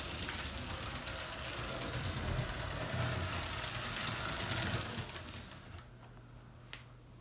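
A Lego 7730 steam engine train motor runs on a 12v track, giving a steady whirring rattle with fast clicking that cuts off near the end, leaving quiet room tone and one small knock.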